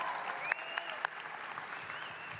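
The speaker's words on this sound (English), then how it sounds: "Give yourselves a round of applause" Graduates at a university spring commencement applaud themselves, a soft, distant wash of crowd clapping with a few louder individual claps and faint whistles or cheers mixed in.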